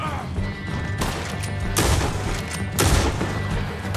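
A gunfight breaks out inside a barn in Red Dead Redemption 2, with loud close gunshots and booming impacts, about three big blasts over a steady rumbling background of game noise.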